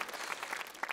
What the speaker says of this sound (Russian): Оль, вам аплодисменты.